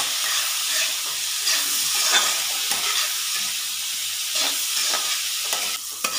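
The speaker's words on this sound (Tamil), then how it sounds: "வெங்காயம் நல்லா வதக்க வேணும். பீஃபுக்கு ஒரு பெரிய தக்காளி, அதுவும் லைட்டாக வதங்கினா போதும்." Onion and tomato sautéing in a pan for a dry beef coconut fry, a close continuous sizzle with stirring scrapes and hiss, no talking.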